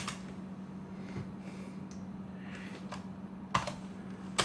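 A computer keyboard being typed on at a PC, with quick irregular clicks and a couple of sharper key strikes over a steady low electrical hum.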